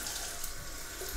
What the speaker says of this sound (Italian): Adesso andiamo ad aggiungere un filino di acqua